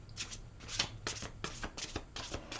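A deck of angel cards shuffled by hand, giving soft riffling bursts in an irregular rhythm, quiet and close with no talk.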